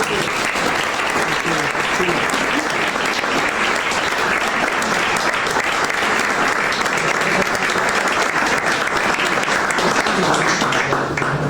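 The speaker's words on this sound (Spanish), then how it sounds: "Le vamos a dar un aplauso a Marga, que es la que se lo pone." An audience at an art talk claps loudly and steadily, a dense wash of applause close by that holds for the whole stretch without letting up.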